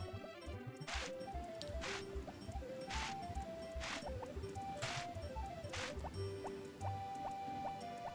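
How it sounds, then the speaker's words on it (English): In the Harvest Moon farming game, crops are watered with a string of repeated watering-can splash and drip effects at a steady pace, set against looping background music. "Now we're going to water everything."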